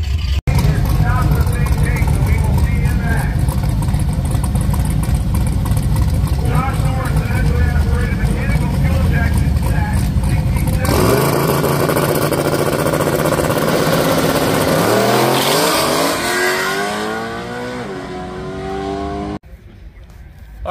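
A drag race car launches down a worn, slippery strip during a Sick Summer event, its loud engine roaring steadily close by, then climbing through rising revs before cutting off abruptly, with voices talking over the noise.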